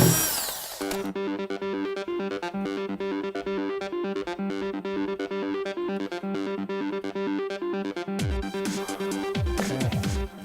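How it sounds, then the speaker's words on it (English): A power drill whirs steadily at high speed through wood, a sustained buzzing drone, before winding down with a few rough, sputtering bursts at the end. "I'm going to drill a couple of holes in here"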